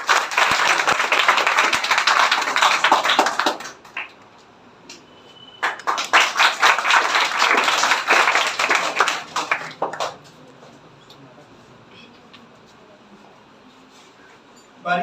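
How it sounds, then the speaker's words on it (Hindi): An audience at a toppers' award ceremony applauds a student in two loud bursts of dense clapping, separated by a brief lull and followed by quiet. "काजल के लिए जोरदार तालियां"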